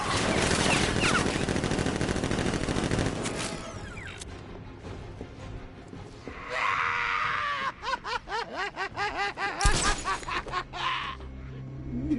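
Militia gunfire erupts in Batman: Arkham Knight as guards open fire, a dense rattling fusillade at first that thins out, followed by scattered shots and a character's strained groaning cries.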